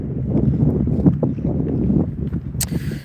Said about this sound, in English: it's a warm, windy evening here